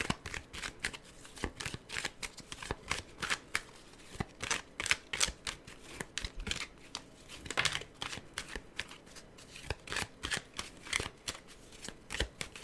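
Tarot cards are shuffled continuously, with dense, rapid riffling and slapping that repeats in quick bursts, close and fairly loud, with no talk over it.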